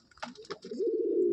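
A pigeon from a breeding pair offered for sale coos close by, a soft rolling call that follows a few brief chirpy notes and scuffles, with no talk.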